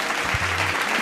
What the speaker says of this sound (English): Come on, soul clap for that.